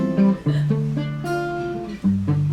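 Guitar plays a short chord progression during an intro-to-jazz guitar lesson, with a few sustained, ringing chord changes played alone without talk.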